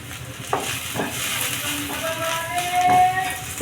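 Turmeric and coriander powder roast in a pan while being stirred, giving a steady soft sizzle with occasional scraping strokes of the spoon, close and moderately quiet.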